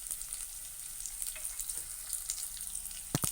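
Onions fry in a pan with garlic and green chillies for egg chilli, a soft continuous sizzle with faint stirring ticks and a couple of sharper scrapes at the end, fairly quiet and close.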